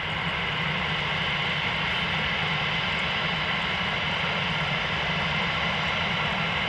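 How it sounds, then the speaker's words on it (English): Airliner at Amsterdam Schiphol Airport making a slow takeoff, a steady, loud broadband engine roar holding constant throughout with a deep low rumble beneath, heard up close. "Slowest takeoff ever."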